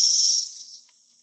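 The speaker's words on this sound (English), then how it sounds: "Here's Cassini. This is my favorite. I like this little cicada." A single high, buzzing call of a Cassini periodical cicada that holds steady, then fades out quickly after a moment.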